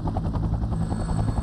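Huey military helicopter flying in a Vietnam War setting, its rotor thumping in a steady rapid beat under a low engine drone, fairly close and continuous.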